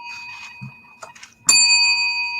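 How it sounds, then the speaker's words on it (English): A bell struck once on a talk show set, a bright ringing tone that sustains and slowly fades, preceded by brief talk and small handling sounds. "both get a bell"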